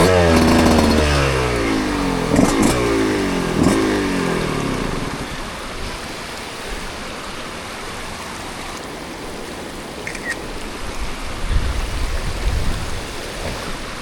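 A motorcycle engine, bogging from a rich or lean mixture, climbs and falls through several uneven revs over the first five seconds, then fades into a steady rushing, wind-like noise.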